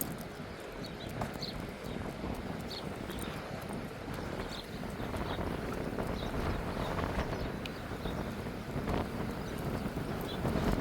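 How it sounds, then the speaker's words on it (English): Continuous wind buffeting the microphone outdoors on a walk near Te Rewa Rewa Bridge, a dense rushing noise that gusts slightly stronger toward the end, with faint tapping sounds throughout. "Just a short walk on a windy day"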